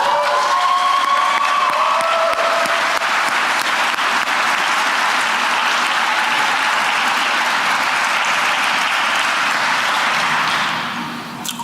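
Gala audience breaking into sustained applause with some cheering and whoops, loud and steady across the room, then starting to fade near the end.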